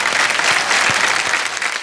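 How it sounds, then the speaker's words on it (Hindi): Loud, sustained audience applause at the IIFA 2023 awards show, a dense wash of many hands clapping at once that keeps steady throughout with no break. "मैं आप सबके लिए मैं चाहूंगा कि आप खुद अपने लिए जोरदार ताली बजाएं।"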